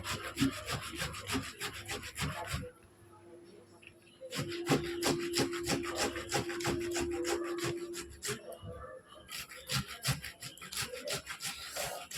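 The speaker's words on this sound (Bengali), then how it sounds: "টমেটোটা এরকম একটু ঘষে নেব শুধু রসটা নেব" A tomato is rubbed over a grater to draw off its juice for a homemade skin treatment, making quiet, close, rhythmic scraping strokes in two runs separated by a brief pause.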